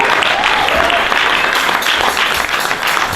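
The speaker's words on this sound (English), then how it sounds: "So with a clap of let us welcome Apostle Dora." A church congregation claps loudly to welcome a visiting apostle at an Easter Friday 2019 service, the applause dense, steady and close for several seconds with a few voices mixed in.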